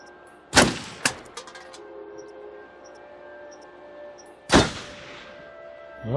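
Gunshot from the video game Until Dawn: two sharp, loud bangs a few seconds apart, each with a ringing metallic tail, against a quiet game backdrop with faint tones.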